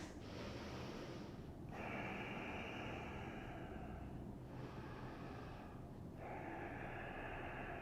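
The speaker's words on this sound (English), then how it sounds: "3 more deep breaths." Slow, deep breaths during an intermediate vinyasa yoga class, long airy inhales and exhales alternating in a steady rhythm, soft and close against a faint background hum.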